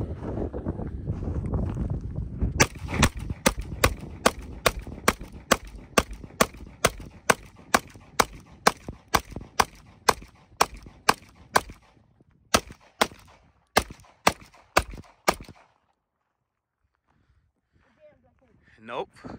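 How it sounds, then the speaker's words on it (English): A full gun magazine is emptied outdoors in rapid fire: a long string of sharp, regularly spaced shots over wind noise, then a brief pause, a few final shots and quiet. "Before the video's over, I wanna do a mag dump for you."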